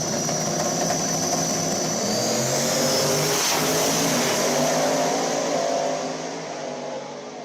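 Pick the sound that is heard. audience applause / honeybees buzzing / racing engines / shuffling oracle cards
racing engines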